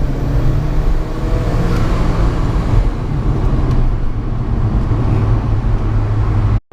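Alfa Romeo 4C engine pulling hard under acceleration to overtake a van on a road drive, a loud, steady roar with a sustained low drone throughout before cutting off abruptly at the end.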